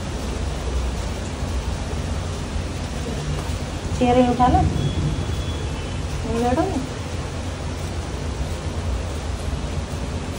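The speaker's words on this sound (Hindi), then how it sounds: "हो गई बारिश, कितनी बढ़िया बारिश हो रही" Heavy rain falls steadily outside a house as a broad, constant wash of noise, with someone speaking briefly over it midway.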